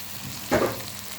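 Liver dropped into a hot pan with onions, a short burst of sizzling frying that swells for a moment and then settles into a low steady hiss.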